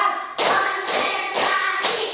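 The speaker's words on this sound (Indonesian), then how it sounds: "Tepuk 1, tepuk 2, tepuk 3," A classroom of students claps together in a counted ice-breaker, four crisp unison claps at an even pace, each a short bright burst.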